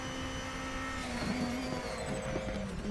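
A DTM race car engine holds a high, steady whine at speed on the Norisring circuit, droning loud and continuous from inside the car with a slight pitch shift.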